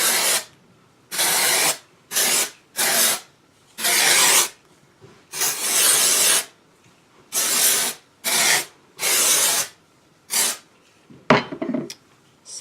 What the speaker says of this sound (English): spray some dry shampoo in that